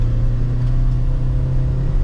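Honda BR-V 1.5 engine pulling uphill on a winding road, a steady mid-pitched rumble holding close and loud throughout with no talk over it.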